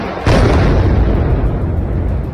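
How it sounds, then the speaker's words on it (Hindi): A bomb-carrying drone strikes Kyiv, setting off a sudden loud explosion that erupts after a brief moment of background noise and then rolls on as a sustained, rumbling roar for the rest of the moment. "वीडियो में पहले धमाके की आवाज सुनाई दी"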